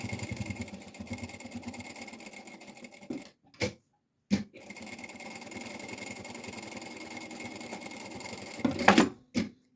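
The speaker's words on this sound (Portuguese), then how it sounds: "Vamos aqui passar uma costurinha." Domestic sewing machine stitching a seam on fabric for a passport holder, a steady rapid mechanical whir running for several seconds, a short stop, a brief burst, then another long run ending in clunks, close and fairly loud.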